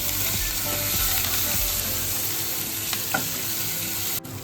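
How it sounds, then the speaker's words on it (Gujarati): Ginger and curry leaves sautéing in hot oil give a loud, steady sizzle with crackling pops, being stirred and scraped through the first couple of seconds, then settling into a continuous frying hiss. "હવે આપણે સરસ તેલમાં સાતરી લઈશું"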